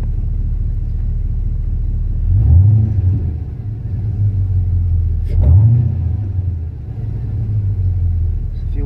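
A GM LQ4 V8 in a car rumbles steadily at close range and rises in pitch as it accelerates twice, each rise surging to full throttle before easing back to a steady drone; no one speaks.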